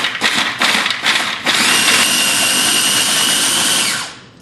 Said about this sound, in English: into the processor goes the base ingredients for my sambal. And I'm going to grind that up